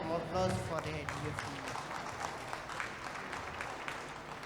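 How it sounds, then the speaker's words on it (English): A round of applause from an event audience, a moderate, even crackle of clapping hands that carries on steadily and tapers slightly toward the end, with a few voices mixed in. "So, please give one more round of applause for the Headway."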